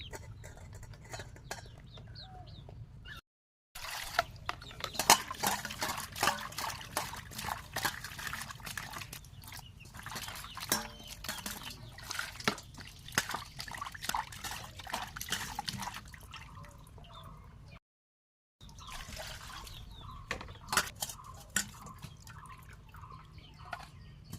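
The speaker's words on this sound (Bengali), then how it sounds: "আমার মাছ ধোয়া হয়ে গেছে" Bata fish being washed in water, with steady dripping, splashing and handling sounds close by, quiet overall, broken by two short silent gaps.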